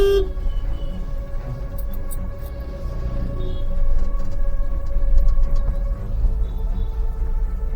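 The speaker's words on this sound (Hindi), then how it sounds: "पब्लिक को हॉर्न मारने दे जितना मारने का है" Car horns honk intermittently over a constant low traffic rumble in narrow Mumbai lanes, some long tones and some short toots, at varying distances.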